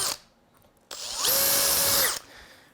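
A power drill with a 1/4 inch bit bores through polycarbonate, a short loud whine that rises to a steady pitch for under a second, then winds down, close and alone.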